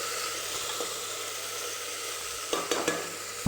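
Tomatoes frying and being stirred in a pan for tomato rice, heard as a steady close sizzle with a few soft scraping stirs near the end and no talk.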